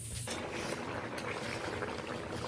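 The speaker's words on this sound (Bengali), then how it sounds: "ফুটিয়ে নিতে হয়, না হলে ভেতরে শক্ত থেকে যায়" A pot of spicy Bengali tengra fish curry in oily gravy bubbles at a steady, vigorous boil, close and fairly loud, with a continuous dense simmering hiss and no voices.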